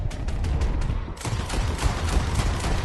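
Rapid volleys of gunfire from Red Dead Redemption 2 crackle loudly and almost continuously, with dense repeated shots that break briefly and then resume over a steady background din.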